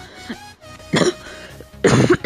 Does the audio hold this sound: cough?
yes